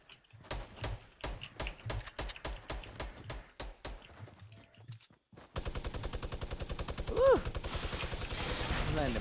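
Rapid bursts of automatic gunfire from the video game Fortnite: a run of sharp rhythmic shots, a brief pause, then a denser steady stream of fire with a faint voice-like sound over it.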